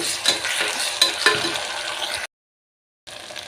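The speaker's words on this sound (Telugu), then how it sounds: "ఇదంతా కూడా చక్కగా పచ్చివాసన వరకు ఇలా ఫ్రై చేసుకుందాం" Ginger garlic paste frying with onions in a pan for tomato rice, a close sizzle broken by a few spatula scrapes and taps, then a brief dead silence before the frying resumes, no speech.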